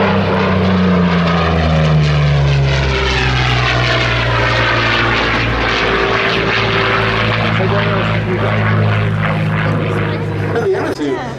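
Curtiss P-40C Warhawk propeller fighter at the Duxford Battle of Britain airshow, its engine droning loud and steady with shifting pitch throughout, while a commentator talks over it.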